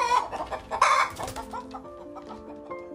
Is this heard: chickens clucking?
yes